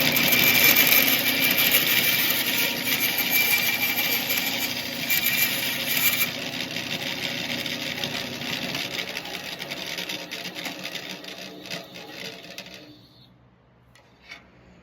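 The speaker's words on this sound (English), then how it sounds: "my bandsaw." A bandsaw cutting through a violin bridge gives a loud, continuous whirring buzz with a rasping edge, holding steady for most of the clip before cutting off abruptly near the end.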